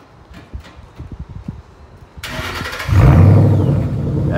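A Ford Mustang GT 5.0 with its resonators deleted starts up close by. A faint starter crank is followed by a loud, deep exhaust roar that settles into a steady rumbling idle.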